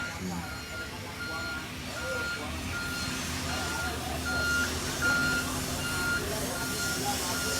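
Reversing beeps from a 25-ton crane truck pulse in a steady rhythm over a low diesel engine rumble outdoors, with voices talking in the background.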